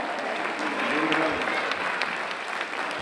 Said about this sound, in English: a huge round of applause for this honor and to welcome Swamiji onto the stage